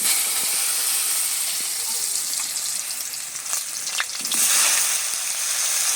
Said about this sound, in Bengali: কড়াইতে আমি একটু সাদা তেল দিয়ে দিয়েছি,